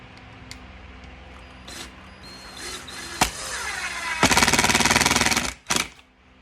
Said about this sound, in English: Just going to use a Ryobi driver.